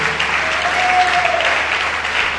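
A church congregation gives a steady burst of applause and acclamation, dense clapping with some crowd voices mixed in, holding at an even, fairly loud level throughout.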